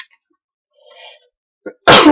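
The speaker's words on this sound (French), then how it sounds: "J'ai éternué, c'est comme ça." A single loud, explosive sneeze bursts out close by, preceded by a couple of faint breathy intakes in near silence.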